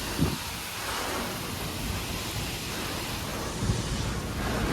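Dense, steady rain roars with a broad hiss, with a couple of low rumbles suggesting wind or distant thunder in a storm.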